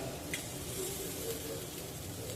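Steady, close sizzling of prawns frying on a hot tawa with little oil, a continuous crackling hiss with no talking.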